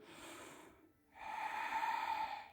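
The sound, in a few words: deep inhale during a yoga exercise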